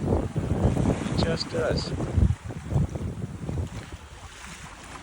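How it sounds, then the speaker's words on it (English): Wind blows across a sailboat under sail with a reefed jib, a loud, steady rush and buffeting on the microphone over water sounds, while someone talks briefly. "The wind has eased up a bit."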